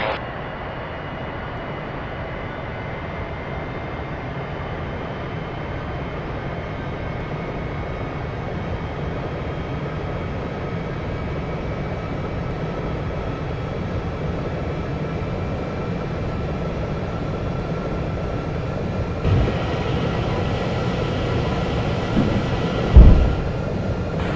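British Airways airliner on its takeoff roll from runway 09, a steady low engine rumble and whine building gradually, with a few rattling bumps near the end and no talk.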